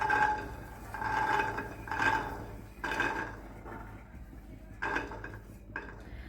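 Green peas dry-roast in a hot pan, and repeated metallic scrapes and clinks of a utensil stirring them come in a loose rhythm about once a second. The sound is close and moderately loud, with no talk.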